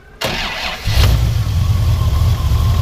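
A 1971 Datsun 240Z engine cranks briefly, then catches and settles into a loud, steady idle close by.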